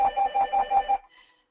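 A telephone rings during an online business training session, giving a steady, warbling electronic ring in rapid pulses for about a second, then cutting off into quiet. No talking over it.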